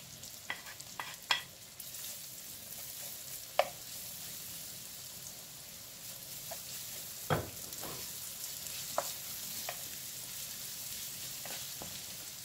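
Garlic frying in a pan alongside nearly crispy bacon gives a steady, quiet sizzle with a few soft stirring scrapes and clicks scattered throughout, no voices.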